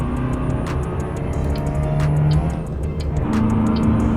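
Engine of a Renault 9 car mod in Euro Truck Simulator 2, a steady continuous drone with a faint rising whine as it revs high, loud and close throughout.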